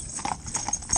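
Horses' hooves clip-clop in a steady, rhythmic pattern as the team pulls a vehicle along, close and clear with no talking.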